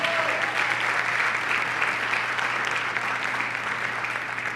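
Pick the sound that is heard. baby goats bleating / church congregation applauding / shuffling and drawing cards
church congregation applauding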